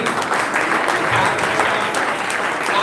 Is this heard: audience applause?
yes